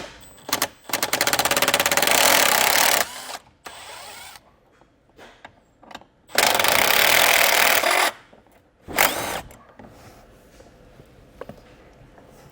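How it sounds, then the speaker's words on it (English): A power ratchet or drill spins out two 10mm bolts from the airbag panel of a 2025 Jeep Grand Cherokee, close and loud in short bursts of buzzing whir with quiet handling noise between them. "Now we'll just take out our two 10mm bolts."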